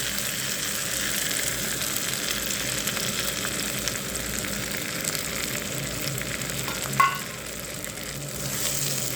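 Beaten eggs hit a pan of cooked masala for egg ghotala, giving a steady, close frying sizzle throughout with a brief clink near the end.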